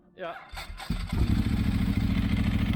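A motorcycle with a dry open clutch cranks briefly, then its engine catches and settles into a loud, steady, close-up idle with a rattling mechanical clatter; a voice briefly talks at the start.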